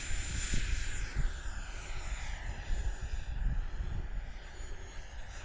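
An FMS F18 Super Hornet RC model jet takes off outdoors, its electric ducted fan giving a steady high whine with a sweeping pitch over rumbling wind noise, moderately distant.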